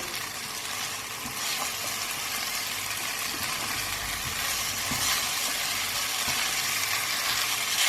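Salted eggplant is stirred in a frying pan, a steady, dense sizzle with faint scraping as the pieces are mixed, continuous and close with no talking.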